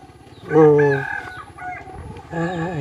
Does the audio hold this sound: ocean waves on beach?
no